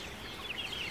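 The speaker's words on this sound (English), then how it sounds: "So inside the chicken tractor here, you can see the chickens" Chickens clucking inside a chicken tractor on a farm, a few short, faint high calls scattered over steady low background noise.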